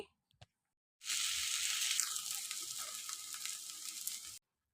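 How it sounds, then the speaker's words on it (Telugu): Gongura (sorrel) leaves hit hot oil in a kadai with a sudden loud, steady sizzle that holds for about three seconds and then cuts off, after a brief quiet start. "ఇదే కడాయిలో one table spoon oil add చేసి ముందుగా కడిగి శుభ్రం చేసి పెట్టుకున్న గోంగూరను యాడ్ చేసుకొని ఫ్రై చేసుకోవాలి"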